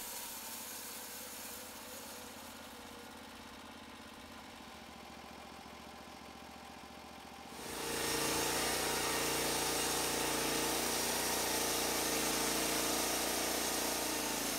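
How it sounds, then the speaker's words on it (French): A Norwood LumberPro HD36 portable manual band sawmill runs at a steady low hum, then the blade enters the wood and the sound jumps to a loud, dense, continuous sawing roar that holds to the end. "Sciez du bois de plaquage aussi mince qu'un 16e de pouce ou de grosses poutres coupées sur mesure."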